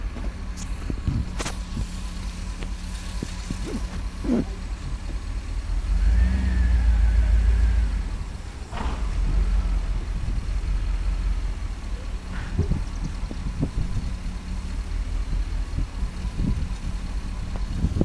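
A car driving with an engine hum and road rumble, a brief louder surge midway, and scattered clunks and squeaks as the brakes catch and grab, close and continuous without talk.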